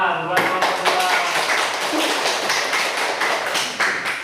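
A classroom of primary school students claps for a group after its presentation, a dense burst of hand claps that starts abruptly and carries on steadily, close and loud, with a few voices mixed in.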